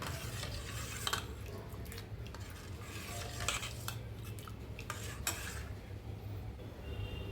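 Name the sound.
stirring watermelon sharbat mix with a spoon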